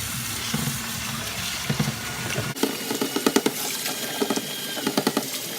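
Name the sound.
tap water rinsing salted cabbage for kimchi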